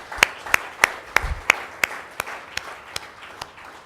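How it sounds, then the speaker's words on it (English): Handclapping at a conference gathering, about a dozen sharp, evenly spaced claps at a steady rhythm, fairly close and sparse rather than a full crowd's roar. "So can we please have a round of applause for each of us?"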